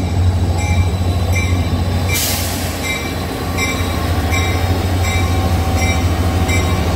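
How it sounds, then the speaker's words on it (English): A Bombardier train set rolls past on the rails nearby, a steady loud rumble of wagons with rhythmic wheel clicks over rail joints and a brief hissing burst partway through. "Bro, it's a perfect Bombardier set."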